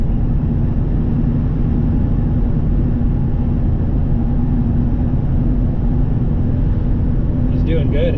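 Ford Excursion cruising at about 55 mph on half throttle, with a loud, steady engine drone and road roar filling the cabin throughout and a brief voice near the end.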